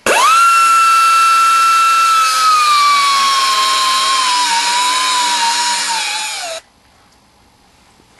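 An angle grinder, a 'lazy man's hacksaw', cuts through metal on a car's steering rack with a loud steady high whine. Near the end it drops off abruptly, leaving quiet.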